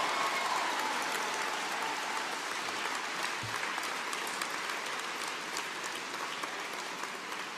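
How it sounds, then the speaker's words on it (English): Steady applause from a large audience at a government ministerial event, dense and continuous throughout at an even level, with no voices standing out. "And while we're applauding"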